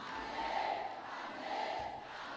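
A church congregation cheers and acclaims during a sermon, a distant crowd roar rising and falling in two swells of shouts, moderately faint and steady.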